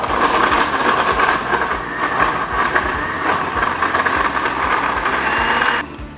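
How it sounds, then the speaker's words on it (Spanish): A blender whirs loudly and continuously, chopping pineapple peel into small pieces, a dense grinding roar that holds steady for several seconds before cutting off abruptly. "Lo licuamos hasta licuar todos los pedacitos de la cáscara."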